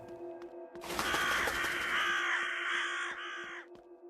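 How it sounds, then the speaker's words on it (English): Crows cawing in a horror-style video game, a loud continuous flurry of harsh caws and wing noise over a steady game ambience, rising suddenly and fading out near the end. "Alright, I can shoot the crows."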